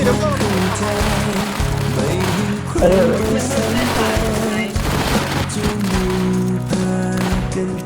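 Video game combat fills the mix with dense, loud gunfire bursts and explosions. Excited voices talk over the shooting almost throughout.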